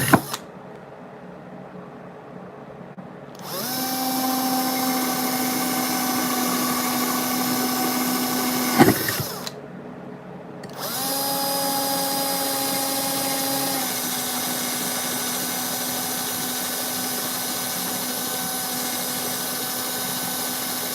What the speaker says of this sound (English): I pre-drill with a small bit, and then I go through and I'll ream it out with a step bit